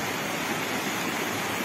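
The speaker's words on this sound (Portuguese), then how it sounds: "Riacho está de canto a canto," A creek running bank to bank after rain, the Riacho do Boi Seco in Santa Cecília, Paraíba, Brazil, roars as a dense, unbroken rush of water, loud and close, with no talking.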